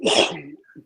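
A single sharp sneeze, close and loud, followed by a brief soft breath.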